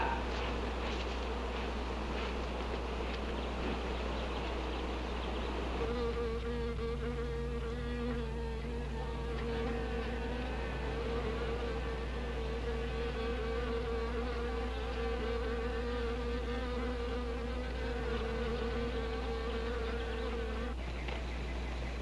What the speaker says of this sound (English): These are wasps.